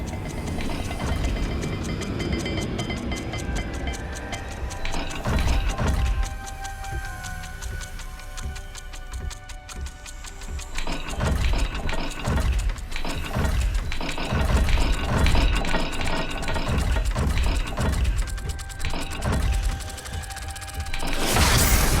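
A turning dial puzzle mechanism in the video game Hogwarts Legacy ratchets and clicks as it turns, with gear-like ticking, creaks and grinding, continuing steadily at close range over a low ambient background.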